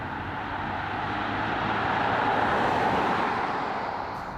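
A 2021 Ford Kuga (Escape) plug-in hybrid cruising in electric mode, a smooth, even hum of tyre and wind noise with no engine note, steady and uninterrupted.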